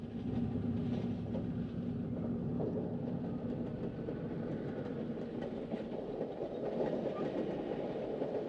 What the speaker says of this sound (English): Emery's camera caught some classic action shots of two eastbound freights between Romulus and Oakwood Yard.